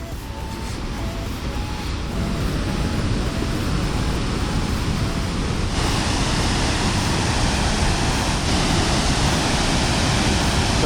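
Sunwapta Falls, a roaring waterfall along the Icefields Parkway, gives a steady, loud broadband rush of crashing water that grows fuller partway through, with no voices.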